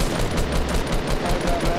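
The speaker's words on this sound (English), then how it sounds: "Oh, he's shooting up." Enemy gunfire in Fortnite, a steady stream of rapid shots rattling close and loud for the whole stretch, with voices talking over it.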